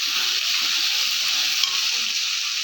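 Potatoes frying in a pan with turmeric and salt give a steady, dense sizzle, close and fairly loud, with no breaks or talking.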